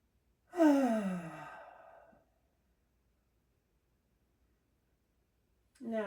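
A long, deep exhale during a gentle yoga class, loud and close, fading over about a second and a half into silence before a second breath begins at the very end.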